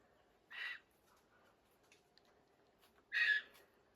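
Choughs calling in an autumn garden: two short, harsh, squawking chatter calls, one early and one near the end, moderately distant over a quiet outdoor background.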